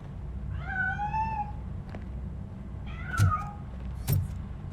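A cat meows in the Robocop: Rogue City video game: a drawn-out wavering meow, then a shorter second meow a couple of seconds later, mixed with sharp clicks and soft background hum, clear and fairly close.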